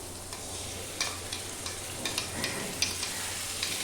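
Mustard seeds being stirred in a frying pan, a soft continuous sizzle broken by light scraping strokes and small crackling pops at irregular intervals, close and quiet with no talk.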